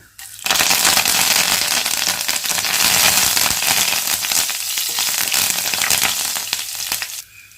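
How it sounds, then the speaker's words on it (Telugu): Curry leaves hit hot oil in a pan and erupt into a loud, crackling sizzle with dense popping spatters. The sizzle starts suddenly, holds steady for several seconds, then eases off. "ఇప్పుడు ఇందులోకి రెండు రెబ్బల కరివేపాకు వేసుకుందాము"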